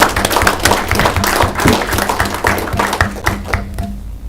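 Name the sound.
applause for two young presenters at a county board meeting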